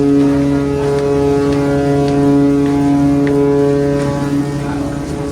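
Ferry KMP Airin sailing from Merak to Bakauheni, with a loud, steady, droning engine hum that holds constant tones against a background of wind and rushing noise.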